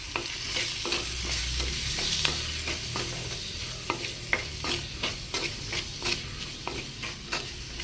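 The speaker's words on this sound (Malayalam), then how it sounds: "ടൊമാറ്റോ ഇതേപോലെ തന്നെ നമുക്കൊരു മീഡിയം കുക്കാവണ വരെ വഴറ്റിയെടുക്കുക" Tomato sautéing for a chilli curry sizzles steadily in a pan, punctuated by regular scraping stirs of a spoon, close and alone without talk.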